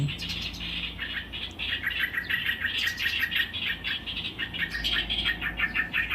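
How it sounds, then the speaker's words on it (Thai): Repeated calls of a male bird guarding its eggs, fairly loud and close, chirping in quick bursts over a soft outdoor background hum. "ส่วนตัวนี้น่าจะเป็นพ่อนกค่ะ ส่งเสียงใหญ่เลย"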